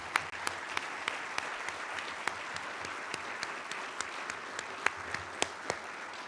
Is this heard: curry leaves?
no